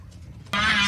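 A male goose in Puerto Varas, Chile, snatched from its flock by two masked men, bursts into loud, sustained honking that starts abruptly after a quiet stretch and carries on close and harsh to the end.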